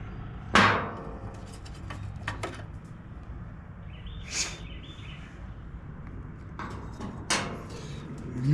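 Hammer tapping a part out of a Toro 22-inch Recycler lawn mower deck, a few sharp separate metallic knocks spaced seconds apart over a quiet background with faint outdoor sounds.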